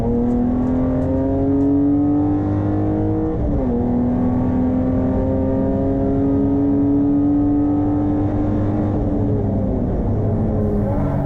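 A BMW production race car laps Hampton Downs in Improved Production car racing, its engine a loud, steady, close drone that climbs in pitch, briefly dips at a gear change, then keeps pulling.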